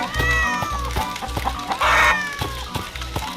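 Cats meow repeatedly inside the video game Sir Whoopass Immortal Death, several short mewing calls over rhythmic game sounds, fairly loud with no talk.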